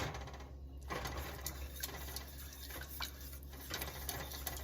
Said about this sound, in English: And we're going to whisk it up again.